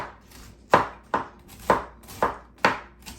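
A knife slices a halved cabbage into thin strips on a cutting board for frying, with six crisp, evenly spaced chops sounding close and clear and no talking.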